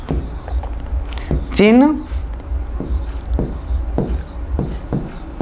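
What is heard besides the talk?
writing on a board during a physics lecture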